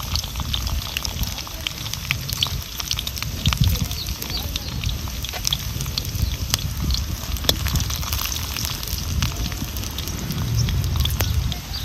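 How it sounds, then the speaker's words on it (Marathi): Garlic sizzles and roasts in a pan until it turns red while making a wild-vegetable bhaji, a continuous close crackle with scattered pops and spits. "ह्याच्यातच आपल्याला तो लसूण चांगला लाल होस्तोपर्यंत भाजून घ्यायचा"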